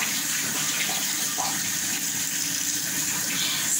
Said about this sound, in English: So guys, after washing my face, now back into my towel.